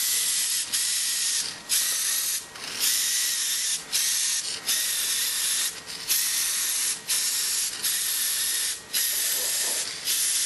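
A paint spray gun hisses in repeated bursts as miniatures are sprayed inside a box, loud close blasts with brief gaps between them.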